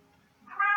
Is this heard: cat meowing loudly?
yes